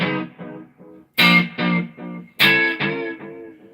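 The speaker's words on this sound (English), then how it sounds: "So now I can change the time as to the echo." Electric guitar notes played through an echo pedal set to a shorter delay time, with a Mesa amp on a pedal board; loud distorted chords each trailed by quick, decaying repeats in a rhythmic pattern.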